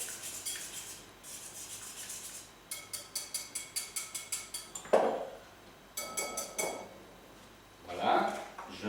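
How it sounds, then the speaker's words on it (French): A whisk beats eggs in a bowl, producing quick runs of rhythmic metallic ticking separated by pauses, with a couple of heavier clunks of kitchenware in between, close and fairly quiet. "je vais les fouetter un peu pour qu'ils prennent un peu consistance entière"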